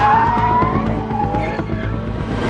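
A rear-engined Porsche 911 slides with its tail swinging round, tyres squealing in a long, loud skid over a steady engine roar, close by and with no talk.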